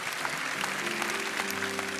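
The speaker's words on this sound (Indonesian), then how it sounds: "Mari kita berikan tepuk tangan untuk Tuhan Yesus." Church congregation applauding together during a worship service, a steady wash of clapping that fills the whole clip at moderate level, with faint sustained tones underneath.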